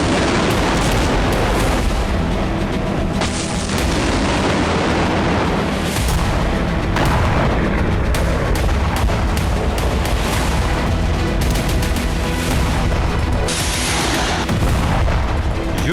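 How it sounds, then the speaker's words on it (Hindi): Continuous, dense rumbling with repeated heavy booms and blasts from ATACMS and Storm Shadow missile strikes in Russia's Kursk region, loud and chaotic throughout, like distant and near explosions layered over each other. "अब यहां अटैक एमएस और स्टॉर्म शैडो से धमाके हो रहे हैं।"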